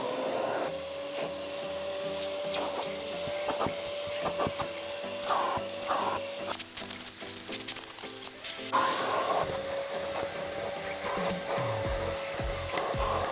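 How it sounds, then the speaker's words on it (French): A Parkside vacuum cleaner works over the interior of a thirty-year-old Renault Mégane, a continuous close whine with shifting pitch and scraping, rubbing sweeps as the nozzle passes over surfaces, running steadily throughout. "on va d'abord passer un coup d'aspirateur pour enlever toutes les saletés en surface"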